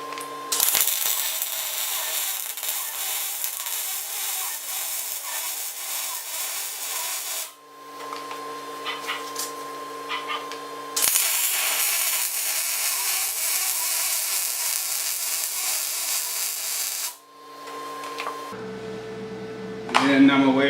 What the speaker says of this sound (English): I'm going to go ahead and weld the other side